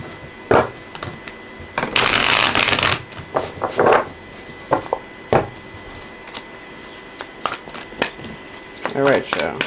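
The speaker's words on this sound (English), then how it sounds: "One more shuffle." Tarot cards are shuffled by hand in quick riffling bursts and soft slaps, close and crisp, with a longer flurry near the start and scattered taps after, between brief pauses.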